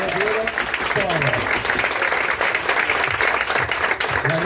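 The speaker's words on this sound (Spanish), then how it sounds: "quiero un aplauso más fuerte para ellos porque realmente lo dieron todo" Audience applause at the grand final of an improvisation competition, loud sustained clapping from a crowd filling the whole stretch, with a voice speaking over it.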